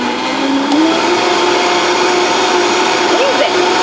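A Vitamix 5200 blender whirs continuously with soapy water inside, a steady close motor roar with a slight pitch shift as it runs, and a voice speaks briefly over it.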